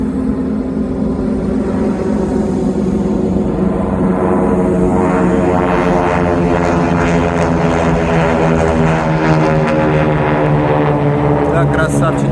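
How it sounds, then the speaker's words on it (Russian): Three aerobatic propeller airplanes fly overhead and loop in New Orleans, a loud steady droning engine hum with layered tones that holds throughout, heard alone without talk. "А, это 3 самолета."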